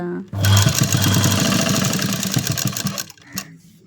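A sewing machine stitches a blouse hem up close, its loud steady motor whir and rapid needle chatter running for about three seconds before stopping abruptly, with a faint voice heard briefly afterward.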